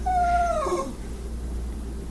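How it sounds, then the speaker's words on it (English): A dog lets out a single high, wavering whine that slides downward and fades within a second, close by, followed by quiet room hum. "My dog is going to sit here and whine."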